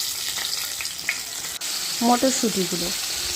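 Spice tempering crackles in hot oil and ghee in a wok, a loud close sizzle with spoon scrapes and a brief burst of bubbling, spitting pops near the end, heard alone without talk.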